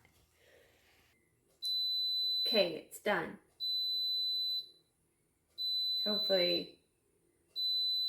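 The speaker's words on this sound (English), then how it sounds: "I was hoping it wouldn't keep beeping." A kitchen appliance gives a steady electronic beep in long pulses, repeating with short gaps, while a person speaks briefly between the tones.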